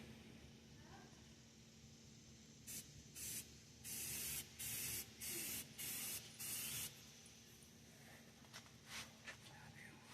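Red paint is spray-painted onto a truck frame. Six short, loud hissing bursts come in quick succession, followed by a few fainter puffs over a low background hum.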